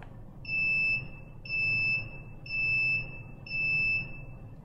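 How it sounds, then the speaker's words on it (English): An UP! Mini 3D printer beeps during initialization: four evenly spaced, clear electronic tones about a second apart over a low mechanical hum, close and moderately loud. "So you should hear it beep"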